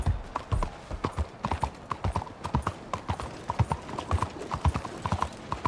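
A horse's hooves clip-clop at a steady trotting rhythm while riding in Red Dead Redemption 2, close and clear with a busy game background behind them.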